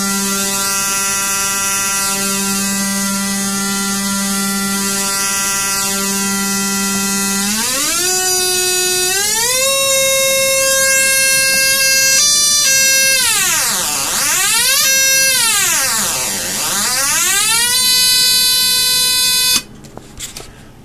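A solid state Tesla coil gives a loud electrical buzz with many harmonics, holding a steady pitch, jumping higher as the duty cycle is raised, then sweeping up and down in repeated swoops before cutting off.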